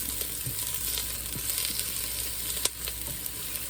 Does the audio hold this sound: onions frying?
yes